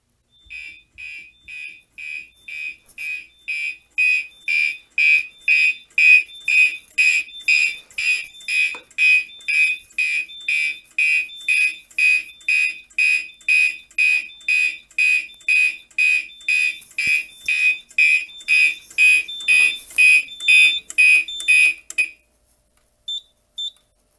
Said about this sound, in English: Commanders are loud in here.